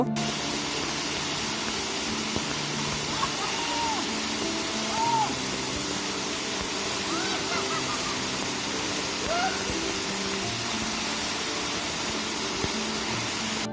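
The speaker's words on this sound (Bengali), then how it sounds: "ঝর্ণার পানি এত স্পিডে পড়তেছিল" Komoldoho (Rupashi) waterfall in Bangladesh, fast, cold water plunging down in a steady broadband roar that never lets up, with faint distant voices and calls in the background.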